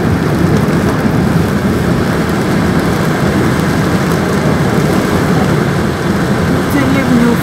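Torrential rain floods a street in the Tulaka microdistrict of Volgograd, overwhelming the storm drains. A loud, steady, unbroken roar of pouring and rushing water fills the whole stretch.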